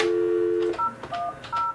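A telephone being dialed to call contacts on the North Korea–China border: a steady tone followed by a quick series of short electronic keypad beeps at varied pitches, clear and close.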